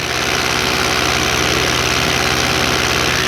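An EOS Quattro Beta paramotor engine runs steadily and loudly at close range during a flight test, holding a constant, unbroken drone with strong low vibration and no talking.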